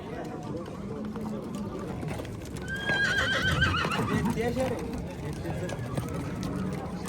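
At a horse market in Nookat, horses neigh and whinny loudly in the middle while hooves clip-clop on the ground, amid constant chatter and talking of traders.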